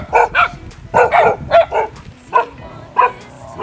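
A dog barks in short, close, loud bursts, about seven sharp barks in irregular rhythm with brief gaps between them, heard on a walk outdoors.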